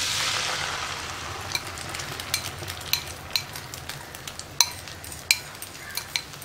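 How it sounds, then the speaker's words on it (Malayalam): Beaten egg for an omelette poured into hot coconut oil in a pan, a bright hissing sizzle that settles into a steady fry with sharp spatula clicks and taps, close and alone. "ഞാനിപ്പോൾ ഈ ബീറ്റ് ചെയ്ത് വെച്ചിരിക്കുന്ന മുട്ട ഇതിലേക്ക് ഒഴിച്ചു കൊടുക്കാൻ പോവാണ്."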